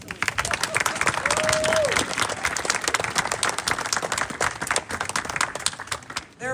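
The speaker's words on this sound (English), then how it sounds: "how about just a round of applause for our engineers." An audience at the Linden Mills restoration ceremony gives a round of applause for the engineers, a broad crowd clapping that peaks early and then thins out, with a voice and some cheering mixed in.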